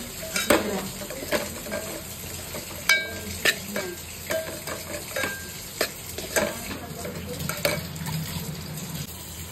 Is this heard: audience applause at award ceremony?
no